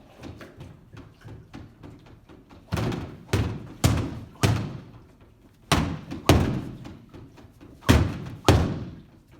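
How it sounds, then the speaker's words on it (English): Steel weapons strike a Bob training dummy in a series of sharp, loud impacts at irregular intervals, each a hard thud with a brief ringing tail, with quieter light knocks between them. "So let's get right into hitting him with some steel weapons."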